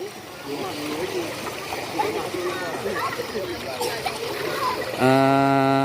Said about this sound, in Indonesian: Bahkan arus dari sungai apa ini sangat deras arusnya.